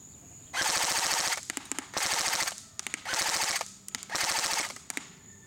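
A G&G GR16 CQW blowback airsoft gun firing full auto outdoors at a target, four rapid bursts of rattling shots, each lasting under a second, separated by brief pauses and a few single clicks, close and clear.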